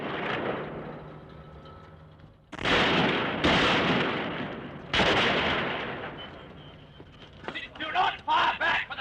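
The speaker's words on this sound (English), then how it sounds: "The shooting began in earnest." Gunfire during the Bloody Sunday shootings in Derry, as paratroopers moved in to make arrests: loud bursts of shots in archival footage, with several sharp reports near the end, over a noisy crowd background.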